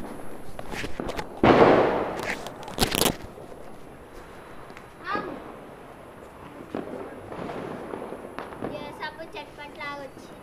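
Diwali firecrackers burst in a few sharp, loud pops and crackling bursts early on, followed by quieter fizzing and crackles, with voices talking in between.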